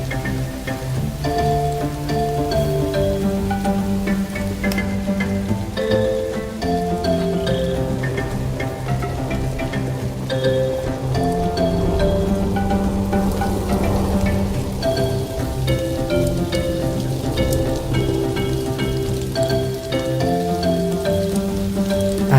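Steady rain falls in the zoo-building video game Planet Zoo, where primates at a recreated Dudley Zoo and Castle run indoors. A soft, constant patter plays under the game's gentle melodic music throughout.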